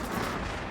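A ship weapon fires in a Star Citizen space battle, a single dense burst of blaster fire packed into under a second, moderately loud and without talk.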